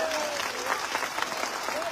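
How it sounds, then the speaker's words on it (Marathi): Loud, sustained crowd applause at a packed Maratha reservation rally in Antarwali, with continuous dense clapping and a few whistles cutting through. "हात उंचावून सगळ्यांनी जोरदार टाळ्यांचा कडकडाट।"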